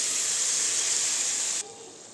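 Vegetables for a val bean bhaji dropped into a hot pan of fried onions and spices hiss loudly and evenly up close, then the sizzle cuts down abruptly to a quieter hiss.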